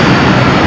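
An aircraft engine runs during a 100-hour inspection, a loud, dense, steady roar heard close and alone for a brief moment.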